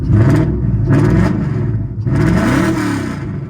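A Nissan 240sx with a swapped VH45 V8 revs loudly and close, with two quick blips followed by a longer rising rev that settles back to a rumbling idle.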